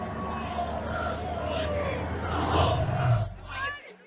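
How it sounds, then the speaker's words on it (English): A protest crowd at the 1968 Chicago convention chants in unison, a massed roar of voices rising and swelling before cutting off abruptly. "While protesters were being rounded up by the police, the crowds chanted, "The whole world is watching.""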